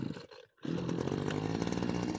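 A petrol-engine pesticide sprayer pump coughs briefly, pauses, then catches and settles into a loud, steady buzzing roar close by.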